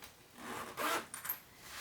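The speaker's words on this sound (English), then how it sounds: "I'm going to move both of my zippers into the middle" Zippers slide and rustle on a cotton woven sewing project, a faint scraping pull with a brief louder swipe in the middle and small clinks, no talking.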